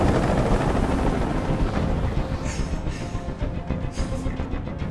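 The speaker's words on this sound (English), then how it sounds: "I can't stand that noise anymore. And tell that helicopter to get out of here." Helicopter hovering overhead in the video game Detroit: Become Human, a loud continuous rotor roar and rumble with heavy low-end thrum that stays steady throughout, with no voices over it.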